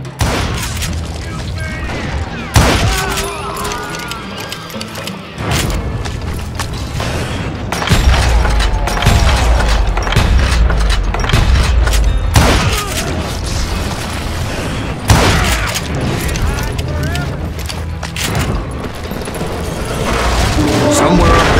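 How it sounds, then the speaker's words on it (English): Gunfire raining down from above in the Western shooter Call of Juarez Gunslinger: dense, loud bursts of shots and booming impacts that run steadily for over twenty seconds, with heavy hits at intervals and a continuous clattering barrage between them. "a fusillade of bullets come raining down from on high"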